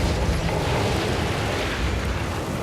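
A building being demolished in SimCity, a broad rumbling explosion that holds steady and loud across the short stretch with no talk over it.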